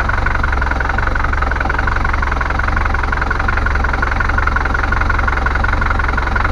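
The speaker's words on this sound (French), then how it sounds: "Le moteur ronronne." A Bavaria 38 sailboat's inboard engine idles steadily throughout, a loud, even mechanical drone with a fine regular knock and no voices.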